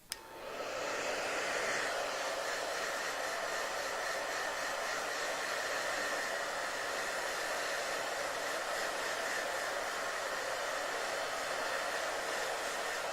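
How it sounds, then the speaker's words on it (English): A handheld blow dryer on a cool or low setting dries a lace front wig, starting with a click and then holding a loud, steady whirring hum throughout. "Try to apply the blow dryer closer to where you feel like the hair still needs to be dry."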